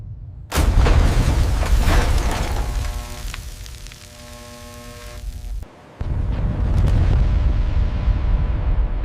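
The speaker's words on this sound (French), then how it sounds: "L'explosion a été vue depuis le Japon." A massive explosion aboard the Japanese battleship Yamato, heard as loud sustained roaring booms with a deep rumbling low end, dipping midway and surging again to a continuous heavy roar.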